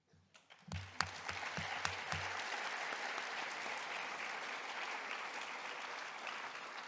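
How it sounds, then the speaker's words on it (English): Audience applause fills a school gymnasium or auditorium at a high school Veterans Day assembly, beginning with a few scattered claps that quickly swell into steady, sustained clapping from a large crowd. "Help me give a huge round of applause to Russ Brennan,"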